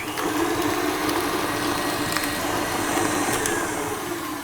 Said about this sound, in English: we're going to beat this cream cheese just until it's smooth